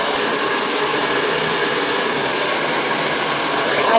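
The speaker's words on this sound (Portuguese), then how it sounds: "Aí eu venho com um secador, uma escova" A hair dryer blows on hair, a loud, steady, even whoosh of airflow running unbroken for about four seconds, with no talking over it.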